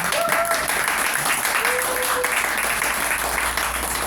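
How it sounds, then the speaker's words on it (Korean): A lecture audience in Korea applauds steadily after a talk on Korean history. The dense clapping holds throughout with a faint voice rising briefly over it. "큰 박수 한번 부탁드릴까요?"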